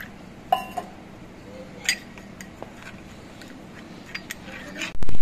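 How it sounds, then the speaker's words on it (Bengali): Spoon clinks against a bowl while turmeric and cumin powder are stirred into water, a few sharp taps spaced out over a quiet kitchen background. "এই মশলাটা আমি জল দিয়ে গুলে রাখছি।"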